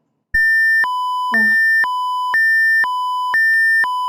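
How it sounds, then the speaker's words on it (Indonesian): Alarm in VT SCADA software for a mini wood-sorting plant: a loud electronic two-tone beep alternating high and low in a steady repeating pattern, with a brief spoken word near the start. "kita klik 50 untuk mencapai jumlah maksimal, maka alarm akan berbunyi."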